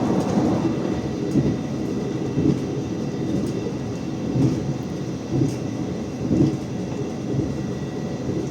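A commuter train, the Supas, rolls past beside the Ijen Express with a loud, steady rumble and clatter that stays heavy and continuous throughout, close by and without speech.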